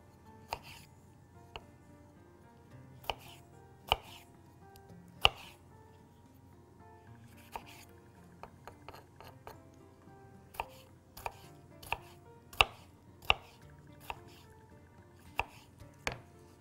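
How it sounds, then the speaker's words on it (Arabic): A knife chopping a tomato on a cutting board, sharp close taps coming in irregular bursts, some quick runs and some single strokes, against a quiet kitchen background with no talk. "هنقطع واحدة برضو من الطماطم اللي عندنا"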